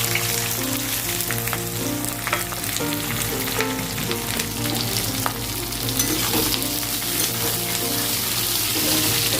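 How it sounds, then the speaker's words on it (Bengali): Onions, green chillies and whole garlic frying in a pan, a steady close sizzle with frequent stirring scrapes and utensil clinks, faint background music or voices underneath. "এরপরে আমি পেঁয়াজটা ভেজে নেব।"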